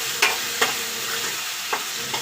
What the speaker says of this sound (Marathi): छान अशी डाळ आपली मस्त फ्राय होत आहे।